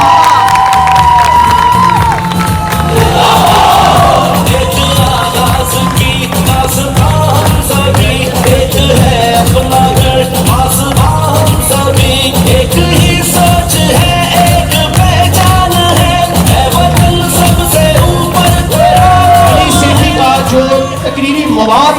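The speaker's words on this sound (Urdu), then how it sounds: "آپ کی بھرپور تالیوں میں" A large audience at an Independence Day culture show in Sialkot claps and cheers loudly and continuously, with whoops and children's shouts rising above a dense wash of applause.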